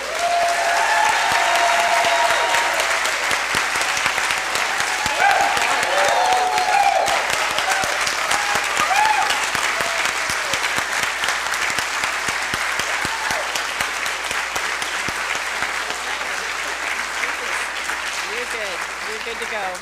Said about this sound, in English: in an effort to invite your applause